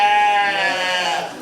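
A sheep gives one long, loud, wavering bleat close by at a 4-H livestock judging contest at a county fair, fading slightly at the end, with no talk over it.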